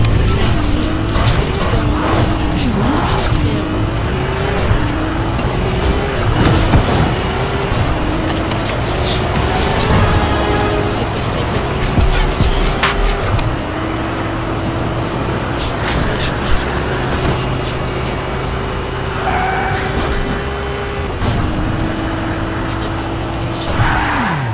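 A Ferrari driven through a storm in the video game Fortnite, its engine note rising and falling steadily through gear changes, loud and continuous, with game ambience layered underneath and no talk.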